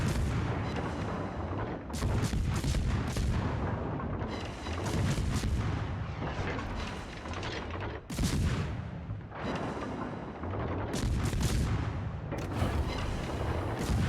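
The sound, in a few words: warship secondary guns firing in a naval video game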